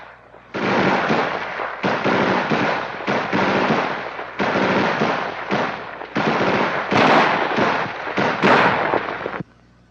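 An M16A1 rifle firing long, loud bursts of rapid automatic fire, about five sustained strings separated by brief pauses, close and dominant with no talk.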